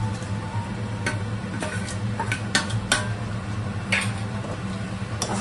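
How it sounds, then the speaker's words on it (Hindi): Hard-boiled, fried potatoes go into masala in a pan for dum aloo, giving a handful of scattered clinks and scrapes of a spoon against metal over a low sizzle and background hum. "अभी इस मसाला में पूरा ये आलू डाल देंगे"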